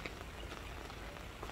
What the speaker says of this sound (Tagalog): Kasi ngayon ay maulan-ulan.